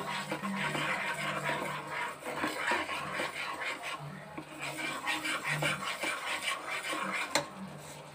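Salted shol fish curry with potato and cauliflower is stirred and sautéed in a pan, with continuous scraping and clinking of a spatula over a steady frying hiss.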